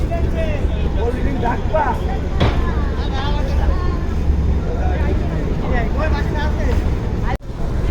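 Parabat 11 passenger launch ship underway on a river route from Barishal, a steady low engine drone and water wash beneath someone talking continuously, ending with a sharp cut.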